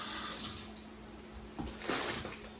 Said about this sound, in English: Just let me rinse my hands.